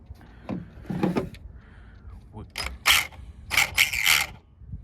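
A Carisma M10DB RC car's drivetrain, with a loose pinion gear against the spur, makes short bursts of mechanical gear grinding and ratcheting, close and fairly loud, in several separate spurts.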